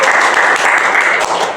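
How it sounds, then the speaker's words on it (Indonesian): Steady applause from a live podcast audience for the invited speaker, dense, even clapping filling the short stretch without a break, with no voices over it. "kita beri tepuk tangan untuk pemateri kita"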